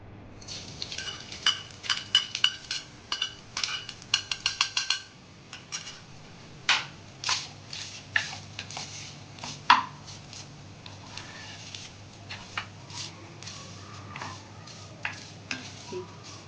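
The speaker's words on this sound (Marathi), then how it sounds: "आता आपण हे थोडं खोबरं परतून घेऊया आधी" Grated fresh coconut is roasted in ghee in a heated kadhai, a quiet series of irregular spatula taps and scrapes against the pan, sometimes in quick bursts, with a low steady background hum.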